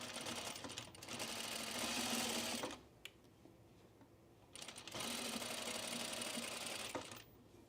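Sewing machine stitching pre-quilted jacket fabric, two steady runs of fast, rhythmic needle chatter split by a short pause with a faint click, close and fairly loud, no voices.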